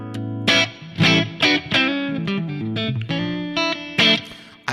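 A clean electric guitar through a Mesa JPIIC-based amp preset plays a short run of plucked notes and chords, bright and close, with a light tail of reverb.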